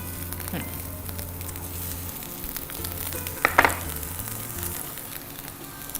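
Garlic dropped into hot oil, a steady soft sizzle and crackle of frying with a brief louder burst of spattering partway through, close by with no talk.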